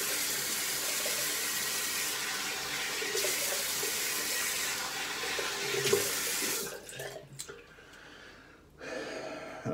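A bathroom tap runs steadily into a sink for rinsing during a wet shave, a constant hiss of water that cuts off near the end, followed by brief splashes and a short resumption of flow.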